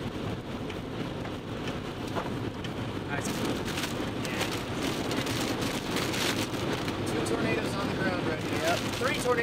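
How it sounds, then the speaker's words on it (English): Big hail pelts down during a tornado-producing storm near Dodge City, Kansas, a steady loud roar of impacts with wind buffeting the microphone, building slightly stronger after the first few seconds. "Big hail."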